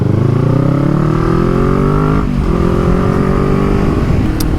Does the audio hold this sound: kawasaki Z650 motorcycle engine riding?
yes